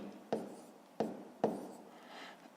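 Numbers are written by hand in three quick, scratchy strokes of a pen or pencil on paper, followed by a fainter rub. The strokes are close but quiet, and nobody talks.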